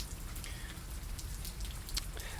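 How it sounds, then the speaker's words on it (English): Steady rain in an audio drama patters densely and evenly on surfaces, with scattered close droplets over a constant wash. The rain is heard alone at moderate level, without thunder. "you can hear the rain."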